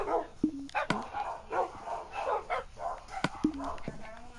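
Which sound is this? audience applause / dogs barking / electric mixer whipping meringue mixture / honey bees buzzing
dogs barking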